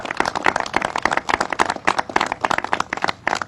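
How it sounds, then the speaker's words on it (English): A crowd applauding steadily at a governor's public briefing, dense clapping from many hands continuing without a break at fairly close range. "let's give them a round of applause"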